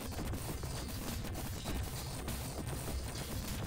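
Dense, continuous gunfire and explosions crackle from a Sub-Terrania game as the player shoots at a laser cannon, a loud unbroken barrage with no pauses.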